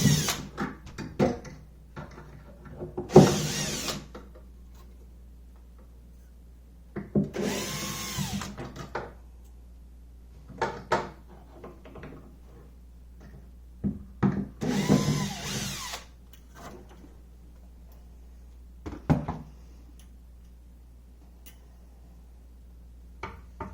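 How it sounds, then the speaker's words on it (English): A power drill works inside an arcade cabinet during installation of original circuit boards, sounding in several short bursts spread across the span, close and fairly loud, with quieter clicks and handling noises in between. "I don't feel bad about using a power drill in here."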